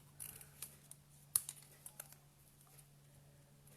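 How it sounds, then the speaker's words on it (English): Scissors snipping out paper yacht shapes by hand, a run of small, quiet, irregular clicks and cuts close by with a faint steady hum underneath. "I'm just fussy cutting these out"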